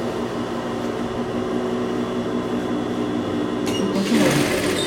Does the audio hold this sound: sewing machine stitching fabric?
yes